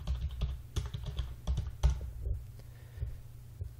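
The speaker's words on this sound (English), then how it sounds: "So type in your passphrase here." A computer keyboard is typed on at close range, a quick irregular run of soft key clicks and taps that slows toward the end, with no voices.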